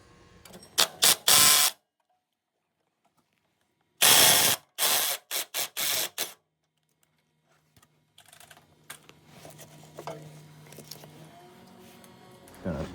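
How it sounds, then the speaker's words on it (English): A 19 mm impact wrench hammers a ball joint nut during a ball joint spacer install on a Gen 2 Mitsubishi Pajero/Montero, loud close rattling bursts in two groups, then quieter workshop shuffling. "So get your 19 mil impact on there if you have it, and then a 17 mil wrench on the back just to keep it from turning."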